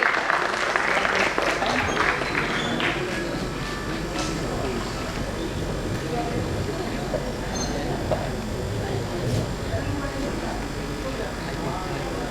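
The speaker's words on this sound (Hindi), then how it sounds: "जोरदार तालियों के साथ स्वागत कीजिए" Audience applause welcoming a guest onto the stage at an awards final, a dense steady clatter of many hands sustained throughout, with crowd noise and voices mixed in underneath.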